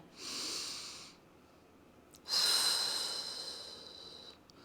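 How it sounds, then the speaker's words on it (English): Deep breathing during a mat Pilates inner and outer thigh side series, with a long airy inhale followed by a pause and a louder, stronger breath, close and alone. "Deep breath in."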